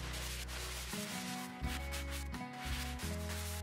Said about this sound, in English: I can start sanding walls